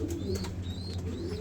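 A Bangladeshi racing pigeon coos in soft, low repeated calls, close by, with faint chirps and background ambience.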